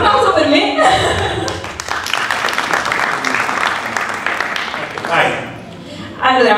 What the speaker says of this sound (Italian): Un applauso per me